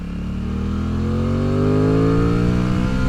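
A 2026 Aprilia Tuono 660 Factory motorcycle engine revs and pulls strongly, its pitch climbing steadily under load, loud and close with no voices.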